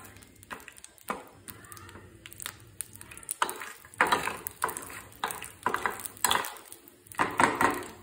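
Peanuts roast in a pan for bhel puri, with soft intermittent scraping and clinking of a spoon stirring them, fairly quiet and close, with faint sizzling underneath.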